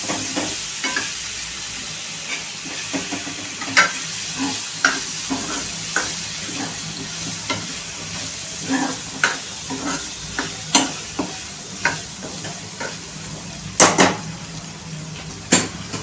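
Potatoes stirred into spice masala frying in oil for a Maharashtrian potato curry: a soft sizzle under repeated scraping and clinking of a spoon against the pan, with sharper knocks toward the end.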